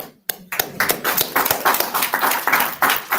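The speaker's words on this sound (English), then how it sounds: "Should we give the big kindness cheer?" A group at a school board meeting at Burnside School claps in a quick rhythmic kindness cheer, sharp close hand claps in an uneven patter after a brief pause, lasting a few seconds.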